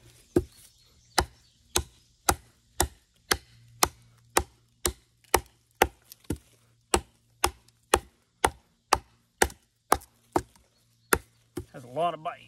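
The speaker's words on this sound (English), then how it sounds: "Just gonna do some chopping with it." Sharp, evenly spaced chops of a Very Good Knife Co Huntsman knife biting into wood, about twenty crisp strikes at a steady rhythm, close and alone, with a brief voice at the end.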